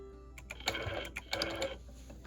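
A sewing machine does free-motion quilting around a circle on a hand-embroidered, hand-pieced quilt, making brief bursts of fast stitching with small clicks and pauses, fairly close and alone.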